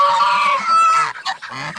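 Farm fowl, chickens and turkeys, call close and loud: a drawn-out honking squawk followed by several shorter choppy clucks and gobbles in quick succession.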